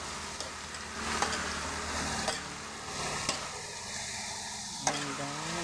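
Vegetables sizzle steadily in a hot pan while a utensil scrapes and stirs them in a few distinct knocks, close and moderately quiet, with no talk.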